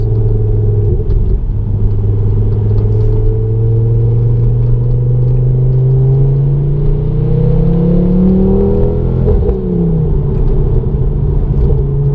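A Ford Focus RS Mk2 engine drones deeply, the pitch rising gradually as it revs, then dropping back with a short burble; loud, close and continuous, no voices.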